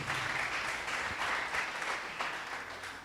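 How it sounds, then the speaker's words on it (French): A church congregation applauding the Bible reading, a steady wash of clapping that fades slightly toward the end, moderately distant and without speech. "On acclame pour la lecture de la parole"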